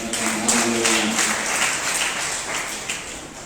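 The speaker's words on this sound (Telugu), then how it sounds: "చప్పట్లు" Audience clapping at a Christian sermon, a dense wash of applause that holds steady and slowly thins, with a voice trailing off at the start.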